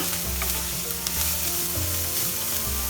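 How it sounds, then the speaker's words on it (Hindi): Vegetables for veg momos stir-frying over a medium-high flame, a loud continuous sizzle of oil with scraping stirs of the spatula throughout. "फ्लेम मीडियम हाई पे रख के हमें कंटिन्यूअसली चलाना है, स्टार्ट करना है। और हमें हाफ फ्राई करना है वेजिटेबल्स"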